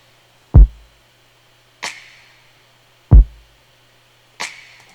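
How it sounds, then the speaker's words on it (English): A snare drum sample sits in a music production, alternating with a deep kick: four hits in a steady pattern, the snare cracking bright and short with a quick decay, close and clean with no talk. "as well as this snare."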